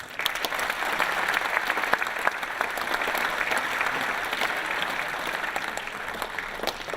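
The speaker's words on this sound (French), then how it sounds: "Je vous demande de les applaudir." Audience at a mayor's New Year greetings ceremony applauding the town's elected officials, sustained dense clapping that holds steady throughout with a faint murmur of voices underneath.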